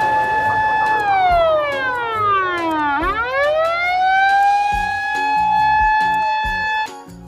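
A loud toy siren wails steadily, then its pitch slides down and sweeps back up, with a soft thumping beat underneath.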